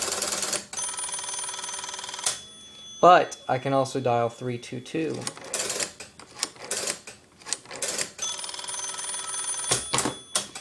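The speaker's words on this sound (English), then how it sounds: "and this phone will ring." A Northern Electric 233QF three-slot payphone bell rings in steady metallic bursts, first alone, then again after someone speaks between the rings.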